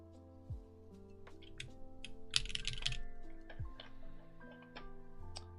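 A CW88 mechanical keyboard with PBT keycaps is typed on in quick, irregular bursts of crisp clicky keystrokes, fairly close but quiet, alongside a faint steady tonal hum.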